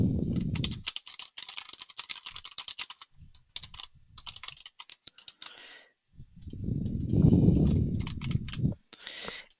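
Keystrokes clatter on a computer keyboard while entering details into a website contact form, coming in quick bursts with short pauses, close and fairly loud, joined by a low murmur of voice in the middle and toward the end.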